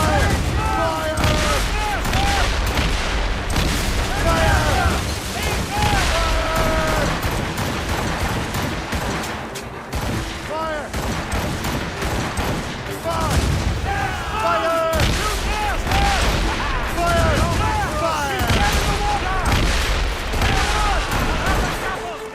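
Repeated cannon and musket volleys boom across a naval ambush in Assassin's Creed Rogue, with shouted commands over dense, continuous battle noise and a steady loud rumble throughout.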